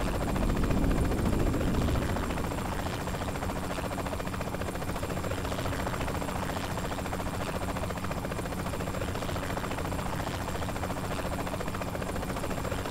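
A helicopter in the video game Saints Row IV, its rotor thudding as a constant drone with a buzzing whine, louder at the start and then holding steady.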